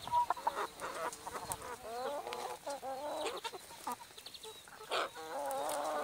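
Several chickens, including a rooster, cluck and murmur close by in irregular bursts, with a few sharper squawks mixed in and faint insect buzzing behind.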